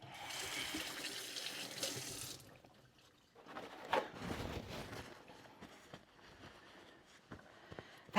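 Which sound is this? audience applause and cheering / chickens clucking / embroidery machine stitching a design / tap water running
tap water running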